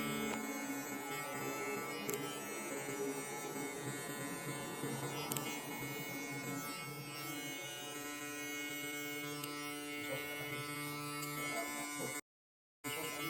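Hair clippers buzz steadily and up close with a bright electric hum while a barber fades a neckline, the tone holding even for over ten seconds before a brief cutoff.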